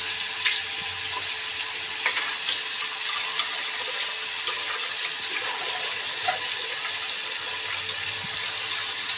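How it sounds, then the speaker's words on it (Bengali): Prawns fry in a pan with a steady, even hiss that stays constant and close, with a few small pops and no talking. "বেশি ভাজবো না, একদম অল্প ভাজবো। বেশি ভাজলে চিংড়ি মাছ শক্ত হয়ে যায়।"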